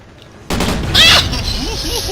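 A sudden loud blast in the Call of Duty Ghosts video game erupts after a quiet start, with a brighter burst in the middle, then rumbling battle noise and faint voices underneath.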